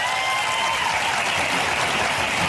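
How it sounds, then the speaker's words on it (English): A live talk-show audience applauds loudly and steadily, a dense wash of clapping hands filling the whole stretch with no speech over it. "bunch of very sick people in this audience to applaud such a thing"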